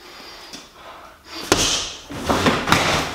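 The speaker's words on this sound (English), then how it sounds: "I was able to knock down the bob" A heavy BOB freestanding training dummy is struck by a punch and knocked down, giving a sharp thud followed by a few heavy, clattering bumps as it falls and settles, fairly close and with no talk.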